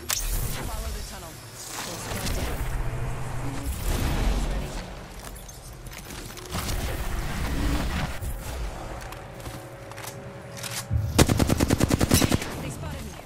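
Rapid automatic gunfire in Apex Legends, bursts of shots crackling through the match with a dense rattling volley near the end, mixed with game effects and a player talking over it.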